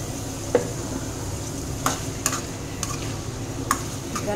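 Eggs fry in a pan of oil for egg curry, a steady low sizzle with a handful of sharp spatula ticks spaced a second or so apart, close and moderate in level, no speech.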